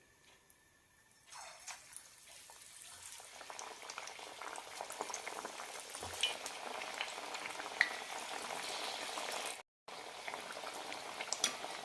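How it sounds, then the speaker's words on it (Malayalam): Beetroot vada frying in hot oil, a steady bubbling sizzle that starts quietly and swells after a second or so, then continues evenly with scattered small pops and one brief dropout. "ഈ ഒരു കനത്തിൽ പരത്തിയെടുത്ത ശേഷം നമുക്കിത് ഫ്രൈ ചെയ്തെടുക്കാം."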